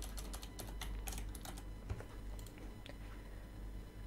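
Code being typed on a computer keyboard: rapid, close clusters of light key clicks that come in quick bursts, then thin out and slow toward the end, with a low steady hum underneath.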